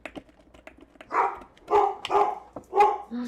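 Several dogs bark indoors at a delivery driver, a string of sharp, fairly loud barks in short bursts with small clicks and taps between them.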